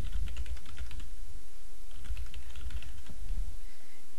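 Rapid keystrokes on a computer keyboard as a domain name is entered, a steady close patter of clicks running throughout with no voices.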